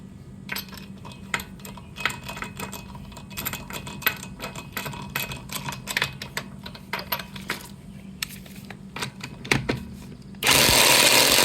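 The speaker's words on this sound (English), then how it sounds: "For wheel I'm using 21 mm socket." A power tool fitted with a 21 mm socket working on the front wheel of a 2020 Elantra, heard as scattered metallic clinks and short ratcheting bursts, then a loud continuous whir at the end.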